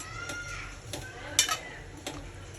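Potatoes being stirred in a cooking pot, a spoon scraping and clinking against the metal every half second or so, over a low steady background hiss.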